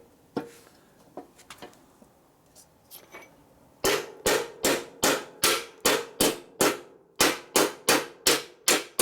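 Hammer blows on a 1942 Harley-Davidson WLA motorcycle part during a chassis rebuild: a few scattered knocks, then a steady run of about a dozen loud, ringing metallic strikes in quick, even rhythm.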